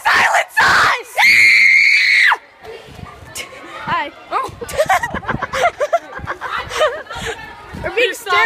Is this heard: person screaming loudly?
yes